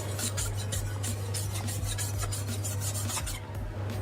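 Chef's knife rasping steadily across a coarse 1000 grit whetstone in repeated back-and-forth strokes, close and continuous, easing off near the end.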